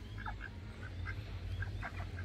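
Ducks mixed in among Muscovy ducks on a small home farm in Karawang, a few faint scattered quacks over a steady low hum, distant and quiet.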